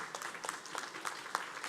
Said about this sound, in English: That's an applause line too.